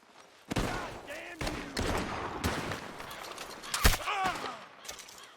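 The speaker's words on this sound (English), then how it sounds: "The gunshots are coming" Several sharp gunshots crack out in irregular bursts in Red Dead Redemption 2, mixed with scuffling and shouted voices in a busy game scene.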